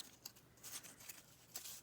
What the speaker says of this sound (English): And then I'm going to take my scissors